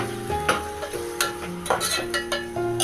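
Tomatoes are stirred into a frying chicken curry, with a soft sizzle beneath repeated spoon clinks and scrapes against the pot in a quick, uneven rhythm.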